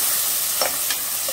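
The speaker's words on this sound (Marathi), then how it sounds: "आता यामध्ये मी टोमॅटो घालते आणि थोडी कोथिंबीर फोडणीत घालते" Tomato and coriander hit hot phodni tempering for a quick dal, giving a steady close sizzle with a couple of soft stirring scrapes and no voices.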